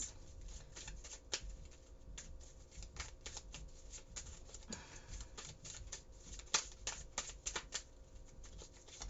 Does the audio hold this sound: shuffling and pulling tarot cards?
yes